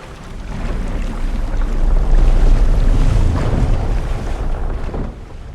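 A boat on open water gives a steady low engine drone mixed with wind and wash, loud and continuous, swelling mid-clip and then easing off and thinning toward the end as it slows to a stop.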